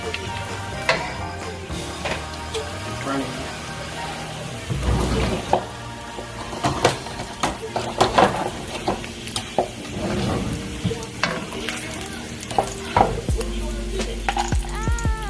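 Bacon cooking in a pan for Mexican fideo gives a steady close sizzle and spatter, broken by utensil scrapes and clatters, with a louder stirring burst near the end.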